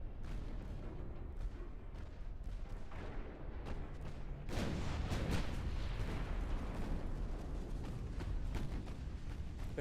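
Torpedo hits on a warship in the naval game Ultimate Admiral Dreadnoughts, with a steady rumble of naval battle noise and a louder burst of heavy booming explosions from the middle onward.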